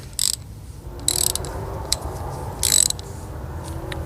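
A ratchet fitted with a 1.5 socket turns a screw in three short clicking bursts, close by and crisp, with a faint low hum between them.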